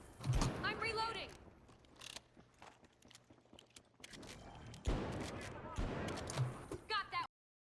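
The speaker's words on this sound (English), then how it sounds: "I'm reloading." A weapon is reloaded in the shooter game The Finals, with mechanical clicks and clacks mixed among bursts of gunfire, while a player talks over it.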